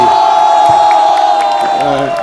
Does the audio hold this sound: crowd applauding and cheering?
yes